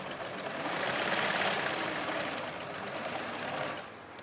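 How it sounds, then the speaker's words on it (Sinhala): A sewing machine runs steadily for about four seconds, stitching a small zigzag on a puff-sleeve blouse; the dense, even motor whir stays close and fairly loud, then eases off at the very end, with no talking. "ඊට පස්සේ අපි මේකට පොඩ්ඩක් මෙතන සිග්සැග් එකක් ගහලා මේ නූල් යන එක නවත්තන්න පොඩි සිග්සැග් එකක් මෙහෙම ගහගන්න"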